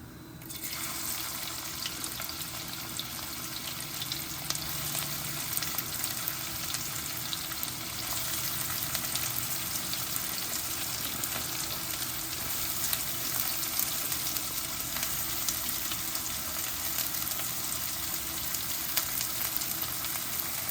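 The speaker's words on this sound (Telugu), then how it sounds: "జీలకర్ర బాగా వేగిపోయిందండి ఇంకా ఉల్లిపాయలు వేసేద్దాం" Onions fry in hot oil with cumin, a steady, close sizzle that holds evenly throughout with no talking.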